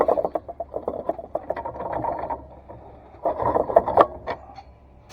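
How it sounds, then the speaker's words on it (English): Channel-lock pliers scrape and rasp against a rounded bolt, gripping and slipping on the metal flats in a run of close, gritty scrapes with short pauses, ending in a sharp clank. "It just scrapes off metal from the sides."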